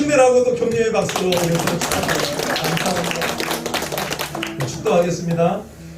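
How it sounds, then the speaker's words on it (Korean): Congregation clapping in encouragement at the end of a Sunday church service, a sustained patter of many hands under a speaking voice and sung tones, swelling again briefly before stopping. "우리 또 서로 힘내라고 또 격려의 박수로"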